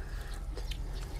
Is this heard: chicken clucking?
yes